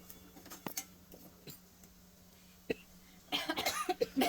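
Coughing set off by chili tempering fumes while making chivda: a few brief, close coughs and throat sounds spaced apart, then a louder, denser burst of coughing at the end.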